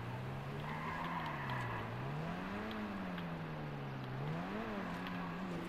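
A Grotto Italia GTO engine in a racing game, one steady loud drone that rises and falls in pitch as it revs and eases off, with faint tire noise underneath.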